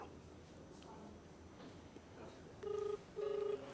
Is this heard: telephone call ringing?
yes